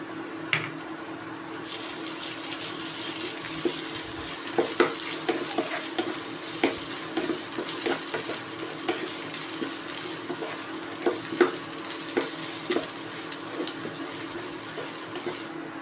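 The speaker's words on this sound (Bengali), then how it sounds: "পেঁয়াজটা যতক্ষণ না গোল্ডেন ব্রাউন কালার হয়ে আসছে কতক্ষণ পর্যন্ত ভেজে নেব" Onions fry in a pan with garlic and green chilli paste for paneer bhurji, giving a steady close sizzle broken by frequent scraping stirs and light clinks, with no talking.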